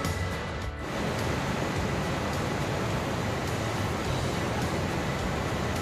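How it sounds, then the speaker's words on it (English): A thundering waterfall on the Kheerganga trek gives a dense, unbroken roar of rushing water, loud and close, with a brief dip early on before holding steady. "So we have reached near this waterfall."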